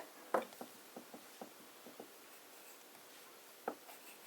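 An italic-nib fountain pen writes with J. Herbin Scented Amber ink, giving faint, soft scratchy strokes in an irregular series with a couple of sharper taps, close and quiet.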